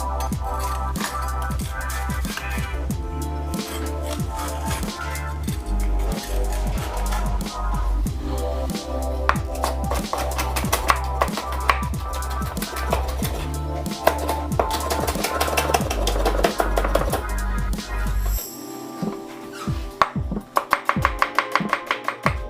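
A knife chops food, likely Calabrian chili, on a cutting board in quick steady rhythmic strokes, loud and close, running continuously before a pause and a few final scattered taps.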